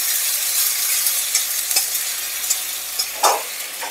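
Onion paste and chili paste frying together in a pan, a bright continuous sizzle with a few scraping stirs, the last one louder, and no talking.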